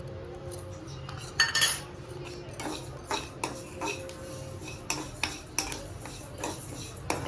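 Cumin and fenugreek seeds are stirred as they roast in a pan. The spoon gives soft scraping and a string of sharp metallic clinks against the pan, quiet and close, with no talking.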